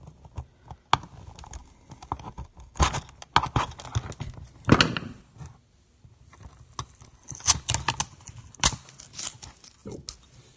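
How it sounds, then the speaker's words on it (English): Plastic casing of a CO and smoke detector being peeled and pried apart, a series of sharp clicks, snaps and crackles in uneven bursts with quiet gaps between. "We're not really cutting it away, just peeling it away."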